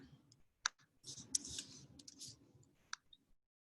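Computer keyboard keys clicking in irregular bursts of sharp taps, with arrow keys pressed repeatedly, close and fairly quiet over a low background hum.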